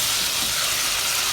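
Green masala and ginger garlic paste fry in a pan with a loud, dense, unbroken hiss for a brief moment, no voices.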